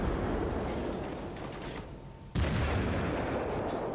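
A naval cannon on the light cruiser Omaha firing high-explosive shells in a naval battle game, one sharp loud boom that breaks a dull rumbling background.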